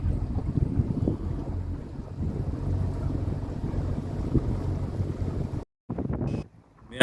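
A motorboat ride to a lodge, with a constant loud engine and water rush mixed with wind buffeting on the microphone, then a brief dropout and a quieter close.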